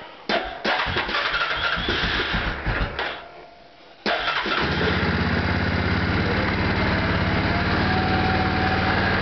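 A 2006 Yamaha Wolverine ATV engine cold-starts after a few seconds of near, sputtering cranking. It catches at about four seconds and settles into a loud, steady idle with no talking.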